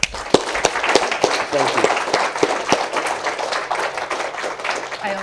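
Audience clapping at a memorial ceremony dedicating high school chemistry labs, a scattered moderate round of applause with a voice speaking over it.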